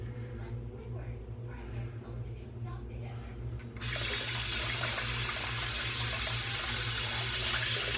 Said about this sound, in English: Rinsed off the razor, wipe it.